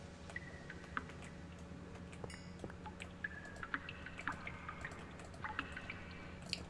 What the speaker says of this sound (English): I like the water noises.